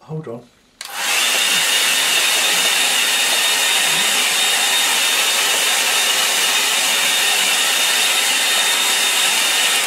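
A hair dryer blows steadily over a landscape painting in progress: a brief spoken phrase, then the dryer switches on with a loud, even whooshing whine that continues unbroken to the end.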